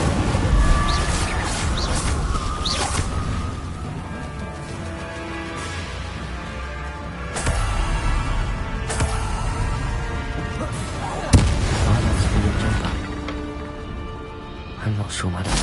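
The Incendio fire spell is cast in the Hogwarts Legacy video game, a series of whooshing, crashing magical impacts amid game effects, with a voice speaking over them.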